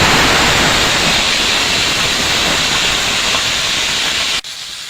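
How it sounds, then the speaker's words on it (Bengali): Ila fish rubbed with turmeric sizzles loudly in hot oil, a steady, bright frying hiss that runs close and continuous before cutting off abruptly near the end. "মাছটা এবার ভেজে নেব।"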